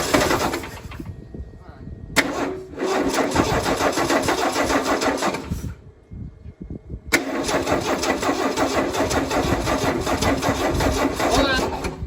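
A 1978 Ford F-150 that sat unused for 28 years cranks over with a loud grinding starter, pauses, then cranks again in two long bursts, close by, with people talking around it.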